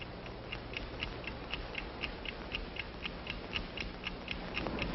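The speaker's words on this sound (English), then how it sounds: "The Hobart gold finder signals the presence of the precious metal like this." A Hobart gold finder device, a prospecting gadget signalling precious metal, gives off a steady, regular mechanical ticking, evenly spaced clicks repeating throughout over a low background hum.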